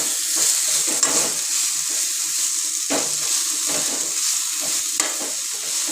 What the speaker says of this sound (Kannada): ಇದನ್ನು ಸ್ವಲ್ಪ ಒಂದು ಒಂದರಿಂದ ಒಂದೂವರೆ ನಿಮಿಷ ಫ್ರೈ ಮಾಡ್ಕೊಳ್ಳಿ ಯಾಕಂದರೆ ಸೊಪ್ಪು ಬೇಗ ಫ್ರೈ ಆಗೋಗುತ್ತೆ